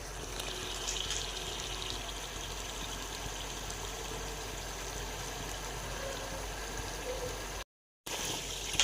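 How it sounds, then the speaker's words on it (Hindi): Yakhni stock is poured into a pot of spiced chicken for pulao, making a continuous, even rush of liquid. It drops out briefly near the end and then resumes. "तो अब हम इसमें यखनी डाल देंगे।"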